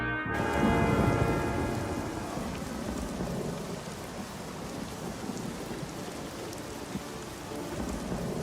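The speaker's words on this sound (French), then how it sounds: "Il pleut." A jungle rain shower with a deep rumble of thunder at the start, then a steady dense patter of rain on surfaces continuing evenly, close and fairly loud.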